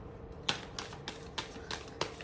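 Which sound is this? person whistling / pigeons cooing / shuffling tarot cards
shuffling tarot cards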